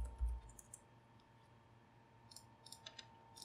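Quiet computer keyboard typing with scattered light key clicks in short bursts, faint and close, with no talking.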